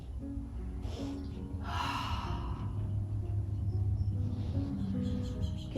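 A deep breath drawn in during a beginner yoga exercise for the lower back, a breathy rush of air rising near the microphone around the second mark, with faint room noise and no voices.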